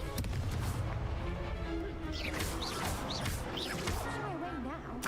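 A Confringo blasting spell explodes in the Hogwarts Legacy video game, giving a loud booming crash and crackling debris that rumbles on, with voices and game effects throughout.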